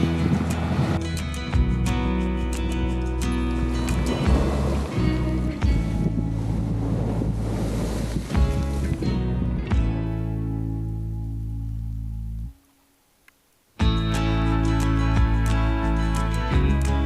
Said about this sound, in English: Ah, there goes a boat through the cut now.